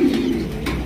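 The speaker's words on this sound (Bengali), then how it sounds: "বন্ধুরা এখানে রয়েছে চমৎকার একজোড়া কবুতর ভাই, কাকজির কালেকশন" A pigeon pair, a Kakji hen and a Lotan cock, gives a loud, close, deep coo at the start that trails off into softer murmuring over low background noise.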